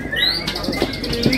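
Songbird named Sabar at a bird contest, giving quick bright chirps and whistled notes that rise and fall over a steady crowd murmur, with soft wing flutters mixed in.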